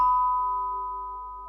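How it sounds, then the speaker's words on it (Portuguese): A shop door bell chime rings once, a clear sustained electronic ding that decays slowly over about a second and a half, alone with no other sounds. "Todo mundo já entrou numa loja e escutou esse sininho."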